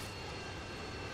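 Steady roar of a Harrier jet in the video game Modern Warfare 2, a continuous broadband engine rumble that stays level and fills the short moment with no other sounds.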